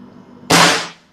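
A single sharp shot from an ACW Nikka Hybrida competition air rifle, a loud close crack with a brief decaying tail, alone in a quiet setting.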